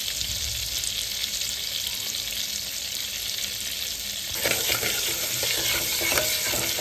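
Cumin seeds sizzle in Amul butter in a pan for butter chicken, a constant hiss that grows louder and crackly partway through, with faint stirring scrapes.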